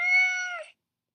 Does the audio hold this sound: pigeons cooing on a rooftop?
no